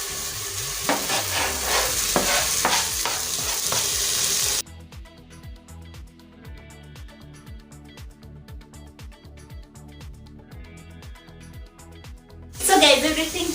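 Carrots and green pepper cook with tomatoes in a pot for lentils, a soft sizzle and bubbling with occasional stirring scrapes, followed by a louder burst near the end.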